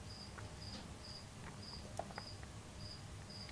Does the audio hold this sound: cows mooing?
no